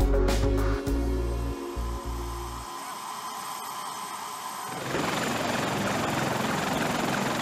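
Sikorsky CH-53 heavy-lift helicopter aboard an aircraft carrier, a loud continuous rotor and turbine roar with low rhythmic thumping early on that gives way to a broader, brighter wash of engine noise in the second half.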